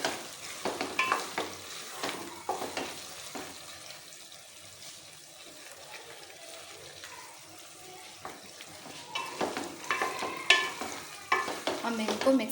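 Potatoes cooking in a pan are stirred with a utensil, giving scraping and clinking strokes over a soft sizzle, busier and louder toward the end.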